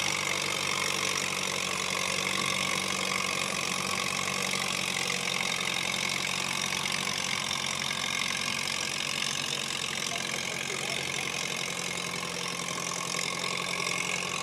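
A Massey Harris tractor idles at a barnyard tractor pull at the Georgetown Fair, a steady mid-pitched engine rumble running continuously at moderate distance amid outdoor crowd ambience, with no talk.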